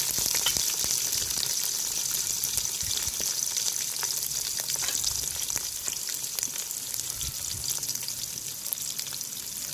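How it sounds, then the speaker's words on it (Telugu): Sliced onions for tomato rice fry in a hot pan, a steady dense sizzle with crackling pops running throughout, close and fairly loud, with occasional stirring scrapes and no voices. "ఇప్పుడు 1 కప్పు ఆనియన్ అయితే ఇలా పొడుగ్గా కట్ చేసుకొని వేస్తున్నాను."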